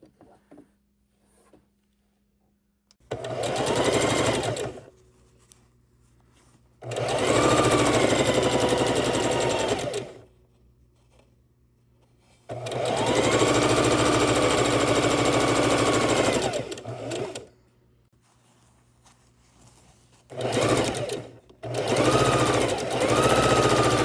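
A sewing machine stitches jelly roll quilt squares in several bursts of steady, rapid whirring, each several seconds long. Quiet pauses fall between the runs.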